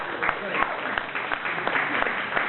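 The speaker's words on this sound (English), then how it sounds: "let's give a huge round of applause for Hamish" Applause from the audience at a book launch, a brief burst of many hands clapping steadily at moderate level, with some voices underneath.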